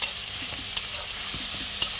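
Garlic frying with browned onions in a pan, a close, even sizzle broken by several light scrapes and taps of a spatula stirring, with no voices.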